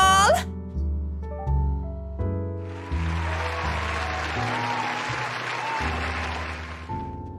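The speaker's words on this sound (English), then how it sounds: "A round of applause!" Applause from a crowd at a bride-to-be's celebration in a horror visual novel game breaks out over background music, a dense patter of clapping that swells after a few seconds and holds steady.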